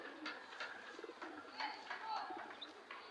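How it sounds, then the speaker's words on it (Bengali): Pigeons in a home pigeon loft coo softly and chirp in short repeated calls, faint and nearby, over a quiet background with some low murmur. "এই যে একটা কবুতর,"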